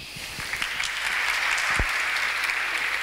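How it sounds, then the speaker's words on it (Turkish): Audience applause at a university startup conference in Istanbul, a steady dense clapping from a large crowd that holds throughout, fairly loud and even, with no talk over it. "Büyük alkış."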